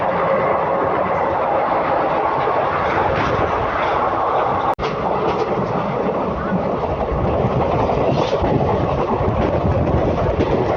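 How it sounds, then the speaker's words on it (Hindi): The Gujarat Superfast, train 22954 from Ahmedabad to Mumbai Central, hauled by a WAG-12 electric locomotive, rumbles past loud and close, a steady roar of wheels and carriages with one brief sharp break midway. "India most powerful engine locomotive WH12"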